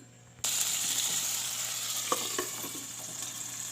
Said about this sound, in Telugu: నేను ఈ కడాయిలో ఆయిల్ వేసేసుకొని టమాటా ముక్కల్ని యాడ్ చేసేసానండి. చూస్తున్నారా ఇలా వేగుతుంది.